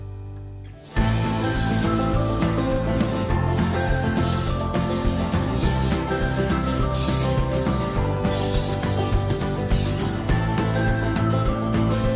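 Global kitchen knife sharpened on an Edge Pro sharpening system, a steady close rasping scrape of blade on stone repeated in continuous strokes, loud and unbroken after a brief quiet start.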